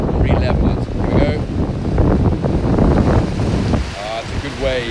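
Ocean surf breaking on a shore, a loud continuous wash of churning water mixed with gusting wind across the microphone, with faint voices underneath.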